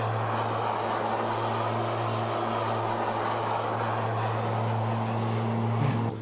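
A Bonanza TP turboprop in flight in Microsoft Flight Simulator 2024 gives a steady, droning engine hum with a constant low tone and a broad rushing wash, unchanging and continuous without voices.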